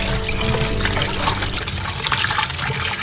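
Running tap water pours over raw chicken pieces being washed, a steady close splashing trickle that continues throughout with no talking.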